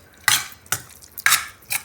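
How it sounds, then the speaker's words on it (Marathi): Metal spoon clinks and scrapes in a bowl while mixing girmit, a puffed rice snack, in a few sharp, close, separate strokes. "आता आपण हे जरा कालवूया."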